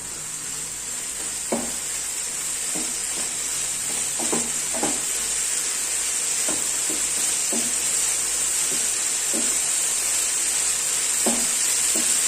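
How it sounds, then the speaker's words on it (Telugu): A spoon stirs tomato mint chutney with turmeric in a sizzling pan, giving a steady frying hiss with a dozen or so soft scraping strokes at an uneven pace, close by and with no voices. "ఒక 1/2 టేబుల్ స్పూన్ పసుపు, వేసుకొని ఒకసారి బాగా కలిపేసుకుందాం."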